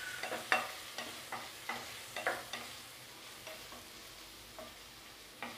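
Onions sauté in a pan for stuffed chilli bajji, a steady soft sizzle under a spoon or spatula scraping and stirring in scattered clicks and strokes, close by and fairly quiet with no voices.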